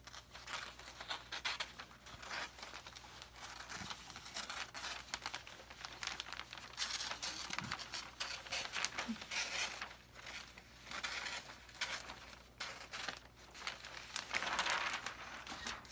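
Scissors cutting across gift wrapping paper, with quiet, ongoing crinkling, rustling and slicing sounds up close for a long stretch and no speech.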